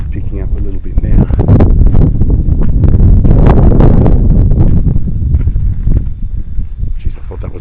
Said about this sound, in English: The wind's picking up a little bit now.